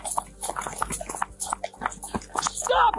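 A police dog barking and panting during a pursuit near a ditch line behind a car dealership, with bursts of sharp barks and scuffling that sound close and loud.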